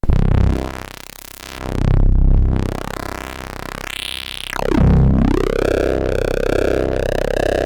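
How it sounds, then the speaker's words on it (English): A Korg MS2000 synthesizer with its bandpass filter produces a loud, distorted growl with sweeping filter tones that rise and fall, sustained and aggressive throughout. "Oh, we can get some cool kind of growly types of sounds."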